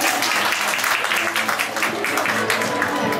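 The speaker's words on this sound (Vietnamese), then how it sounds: "một tràng pháo tay nữa bạn" An audience at a stage talk with two journalists claps in a brief, dense burst of applause, with voices mixed in throughout.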